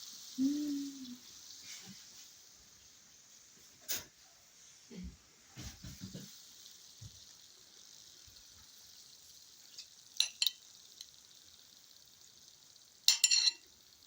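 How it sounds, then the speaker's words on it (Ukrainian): Steady faint sizzling of potatoes with salt pork frying in a pan, with a few clinks and scraping sounds scattered through it. "все шкварчить"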